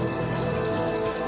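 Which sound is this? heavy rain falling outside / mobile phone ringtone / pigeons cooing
heavy rain falling outside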